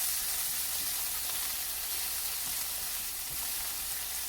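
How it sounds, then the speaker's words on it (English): Vegetables stir-frying in a pan on a home stove, a steady close hiss and sizzle filling every moment, with faint movement of the food in the pan and no voices. "Just kind of stir fry all of this stuff."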